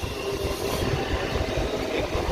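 Chennai suburban local train at St. Thomas Mount station at night, a steady low rumble of rolling stock and engine hum filling the platform, loud and continuous with no break.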